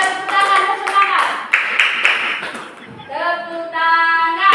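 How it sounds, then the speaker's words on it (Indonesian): Students in a classroom clap for a classmate, a quick ragged burst of hands under chatter, with a bright sustained tone ringing out afterward as voices carry on. "Oke, tepuk tangan buat teman kalian dulu."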